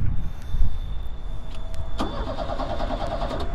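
A shop floor sweeper's engine turns over and catches, a steady mechanical whir with a rising cranking tone, loud and close with no talk.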